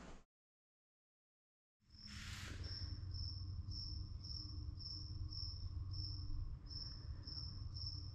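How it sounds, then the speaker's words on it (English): A single cricket chirps in regular pulsed bursts inside a vehicle shop where a three-axle truck had its alignment done, steady and fairly close over a low background hum after a brief silent gap. "Where is that cricket?"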